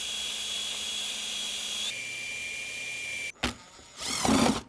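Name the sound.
power screwdriver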